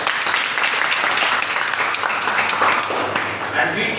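An audience claps at a Teacher's Day school program, a brisk, continuous patter of many hands lasting a few seconds, with a voice speaking over it.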